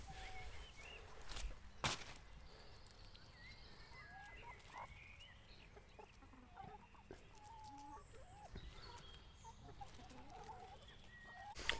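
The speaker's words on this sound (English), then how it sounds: "So I'll make sure all the hens get their fair share" Backyard hens clucking in a vegetable garden, scattered soft clucks and calls at moderate distance amid outdoor ambience, with no talking.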